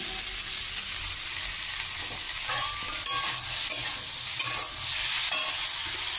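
Mixed vegetables sizzle softly in a pan while being stirred and mixed, with close scrapes and clinks against the pan over a steady frying hiss, and no voices.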